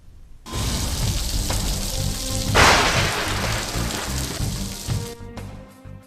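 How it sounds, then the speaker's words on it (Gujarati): Heavy monsoon rain pours down across Saurashtra, a dense, steady hiss that swells briefly partway through and holds loud and close for several seconds before cutting off. "ધોધમાર વરસાદમાં સૌરાષ્ટ્ર તરબોળ થયું છે"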